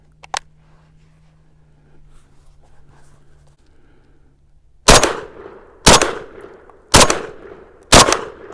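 A Saiga 410 semi-automatic shotgun fires four loud, sharp shots at a steady pace about a second apart, each with a short ringing tail, after a few seconds of quiet handling.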